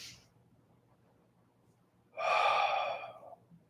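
A single long, audible exhale during a stretching exercise, rising abruptly after a quiet stretch of low room noise and tapering off over about a second.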